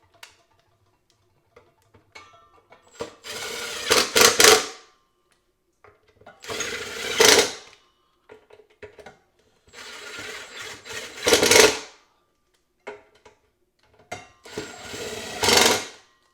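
Impact driver snugging up the screws on a 1500-watt electric patio heater, heard as four separate bursts of whirring and rattling hammering, each lasting about a second, with quiet gaps and small clicks and taps between them.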